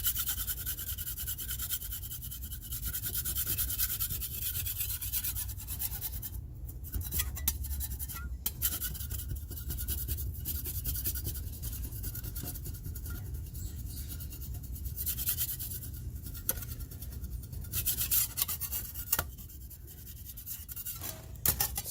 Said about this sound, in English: Let's scrape all that old stuff there.